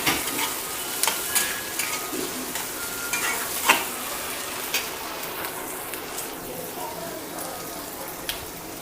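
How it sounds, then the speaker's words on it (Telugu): Onion pieces sizzling in a pan for cashew chicken curry, a steady close frying hiss broken by intermittent scraping taps of stirring. "ఉల్లిపాయ ముక్కలు వేగనివ్వాలి"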